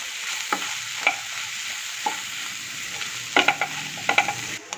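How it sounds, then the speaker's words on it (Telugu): Something fries in a pan for homemade noodles, with a continuous hiss under repeated short scrapes and taps of a stirring utensil. A cluster of quicker strokes comes near the end, and no one talks. "పోయేంత వరకు కూడా బాగా ఫ్రై చేసుకోవాలి."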